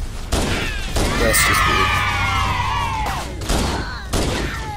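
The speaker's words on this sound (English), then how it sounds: "I must be fully immersed as I run straight at this elite, only using pistols." Pistol shots fired at an Elite in the video game Halo ring out as several punchy blasts amid chaotic combat noise and whooshing energy effects, with a voice speaking briefly over the action.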